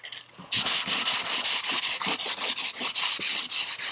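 Sandpaper rubs a glued scarf joint in wooden baseboard trim in long, even back-and-forth strokes, a loud close rasping that repeats steadily about three times a second after a brief quiet start.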